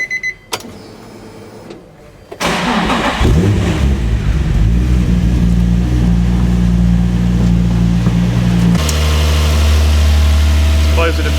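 A Nissan 350Z being prepped for twin turbos with an upgraded fuel system cranks briefly, catches and settles into a loud, steady idle with a low droning hum, close to the listener.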